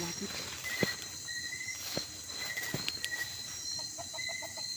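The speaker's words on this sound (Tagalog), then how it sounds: "Parang manok. Parang manok eh." Faint clucking of chickens somewhere off in the distance, scattered soft calls under a constant hiss of insects, with a few thumps and quiet voices nearby.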